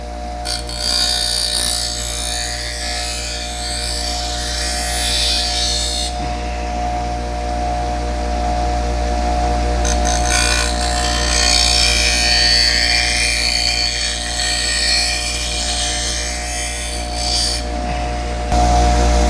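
Electric knife sharpener running with a steady motor whine, its grinding rising in two long bursts as a knife blade is drawn against the wheel, loud and close with no talk.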